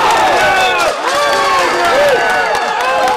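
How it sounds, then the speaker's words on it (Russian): A football crowd roars and cheers at a championship match in Dagestan, hundreds of supporters making a loud, continuous din with whistles and voices swelling and dipping, close and dense throughout. "Опасные моменты и голы сопровождаются бурными овациями."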